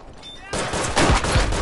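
Gunfire in the World War I shooter Verdun, a sudden dense burst of rapid shots and cracks at close range filling the second half, with no talk.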